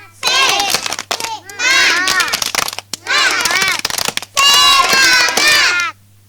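A class of kindergarten children perform a rhythmic spirit clap together, loud bursts of group clapping mixed with their chanting voices in four energetic phrases separated by short pauses.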